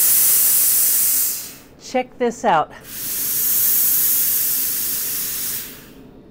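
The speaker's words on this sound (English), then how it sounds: "This is double heated steam." A Laurastar double-heated steam iron releases bursts of loud, close hissing steam, one before and a longer one after a brief spoken remark.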